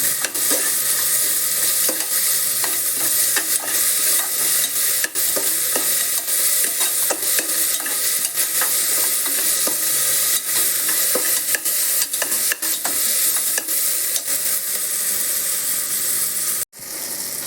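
Mint and green chilli sauté in hot oil in a pot for a one-pot chicken biryani, a loud, dense, continuous sizzle and crackle with steady stirring throughout, close and without talk.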